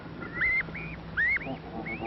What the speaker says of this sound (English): On another nest in Farmer Brown's barn is a family of geese